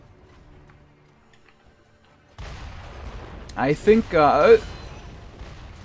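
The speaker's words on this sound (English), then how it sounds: "these explosions! There's another one? There's 3 of them." Explosions from bombardier enemies in the video game Sekiro, a sudden burst of rumbling blasts and crackling after a quiet start, followed by a few loud, close bangs under a voice speaking.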